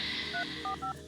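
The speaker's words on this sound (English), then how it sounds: "I'm going to call myself from this phone so I have its number." A telephone sounds three short touch-tone dialing beeps in quick succession as someone calls their own number, close and clear over a faint background hum.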